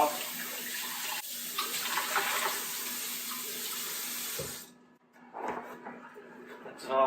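Tap water pours steadily over a glass Yankee Candle jar as it is rinsed at a sink, a close, hissing stream that cuts off and then resumes with splashing, while someone speaks over it.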